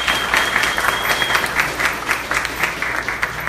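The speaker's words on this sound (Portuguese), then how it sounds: "peço uma salva de palmas à resposta do Walter" An audience claps loudly and steadily after an answer at a talk, a dense close burst of many hands sustained through the moment, with a faint high tone running beneath.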